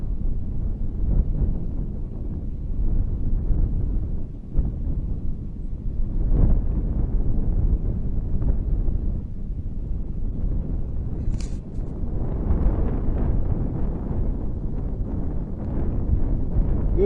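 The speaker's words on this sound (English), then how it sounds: "Getting windy again." Continuous low rumbling wind buffeting the microphone, gusting louder and softer throughout with no voices.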